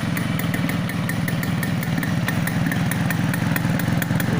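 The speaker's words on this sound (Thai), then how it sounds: "เดี๋ยวเข้าไปฟังเครื่องยนต์กัน เครื่องยนต์ครับ" A Suzuki K125 motorcycle engine idles steadily up close, a dense, even low rumble with rapid mechanical clatter throughout.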